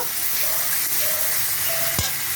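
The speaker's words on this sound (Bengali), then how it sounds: "মশলাটা একটু কষিয়ে নেব" Spice paste sizzles steadily in hot oil as it is sautéed, a close, even frying hiss with faint stirring scrapes and a brief sharper clink near the end.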